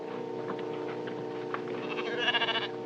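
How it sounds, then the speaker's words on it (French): Several sheep in a flock bleat in wavering calls over a steady background hum, the bleats growing louder toward the end; sound from a 1954 film. "Les moutons! Les moutons!"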